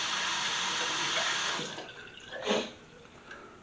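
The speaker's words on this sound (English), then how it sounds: "I'm going to go ahead and rinse anyway, just because." Water from a tap runs steadily over a Defender safety razor being rinsed, a loud, close rush for the first stretch that then thins to scattered splashes and drips, with no voices.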